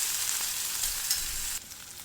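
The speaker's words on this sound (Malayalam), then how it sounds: "വെളുത്തുള്ളി, ഇഞ്ചി, പച്ചമുളക് ഇതെല്ലാം നമുക്കൊന്ന് നല്ലതുപോലെ വഴറ്റി കൊടുക്കാം" Garlic, ginger and green chilies sauté in a pan, a bright close sizzle with stirring that suddenly drops quieter near the end.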